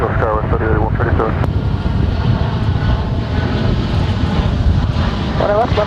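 A SkyWest jet taking off at Dallas DFW airport, a loud, steady low roar of engines with wind buffeting the microphone, and a brief air-traffic radio voice at the start and end.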